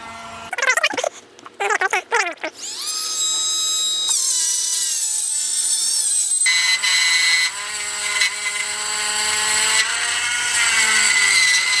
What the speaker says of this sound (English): I'm just going to grind each, like a corner into each of these